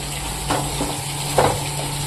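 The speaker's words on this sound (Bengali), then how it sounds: "এবার একটু জিরে ভেজে নিলাম" Cumin seeds frying in a pan after chillies and bay leaves, giving a steady, close sizzling hiss with a few soft clinks and stirs.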